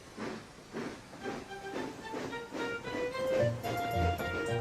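Steam locomotive from a Thomas the Tank Engine toy workshop story chuffing away in a steady rhythmic series of hissing puffs, with a faint whistle-like tone over the top and the beat growing stronger toward the end.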